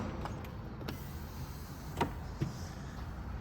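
Rear hatch of a 1996 Toyota Caldina 2.0 TZ 4WD wagon being released and swung open, a soft mechanical latch clunk followed by a brief creak, quiet and close with no talking.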